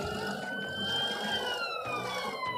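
An ambulance siren in a driving simulator game wails continuously, its gliding tones sweeping down and up over a faint engine hum, with no voices.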